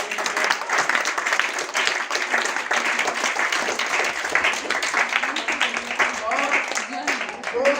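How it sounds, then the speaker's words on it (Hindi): Thunderous applause from a crowd welcoming the chief guest at a Shaheed Diwas gathering in Sonipat, loud dense clapping sustained throughout while a voice talks over it. "दर्शन तालियों की गड़गड़ाहट के साथ स्वागत करेंगे आज की मुख्य अतिथि"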